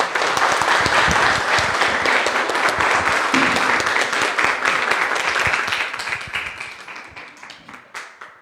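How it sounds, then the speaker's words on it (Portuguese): A church congregation applauding during a worship service, dense loud clapping from many hands filling the room, steady for several seconds before gradually thinning and fading out. "A igreja deu uma salva de palmas ao nosso Deus."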